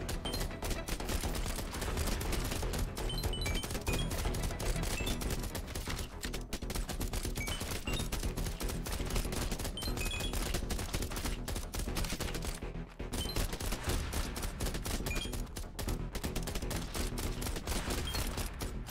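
Continuous rapid SMG fire rattles nonstop in the zombie-survival game Biters & Bullets, a dense stream of overlapping shots with a brief lull near the middle and faint game effects mixed in.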